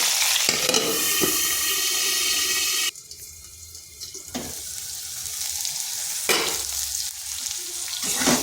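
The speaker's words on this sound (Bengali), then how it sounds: "আলুটাকে একটু ভাজা ভাজা করে নিচ্ছি" Potato pieces fry for a light rohu fish curry with ridge gourd, a loud steady sizzle that drops abruptly to a quieter bubbling hiss, with occasional stirring scrapes and bursts of spatter.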